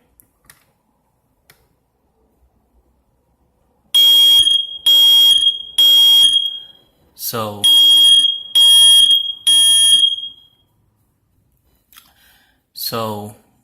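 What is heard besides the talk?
smoke detector test alarm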